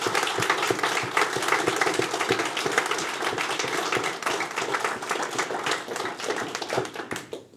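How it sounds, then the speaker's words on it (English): Sustained round of applause from an audience at a community meeting after the speakers, dense steady clapping from many hands that tapers off near the end. "a big round of applause."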